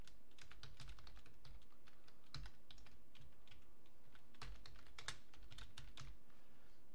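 An email is typed on a computer keyboard running AmigaOS, the keys clicking in quick, uneven bursts up close against a quiet room.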